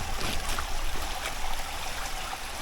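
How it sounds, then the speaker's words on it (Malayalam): Steady rain falls near Lingya waterfall on a forest trek. It makes a dense, even wash of noise with a low rumble underneath and no breaks or voices. "പക്ഷെ ഇവിടെ എത്തിയപ്പോൾ നമുക്ക് അത്യാവശ്യം നല്ല മഴ പെയ്യാൻ തുടങ്ങി"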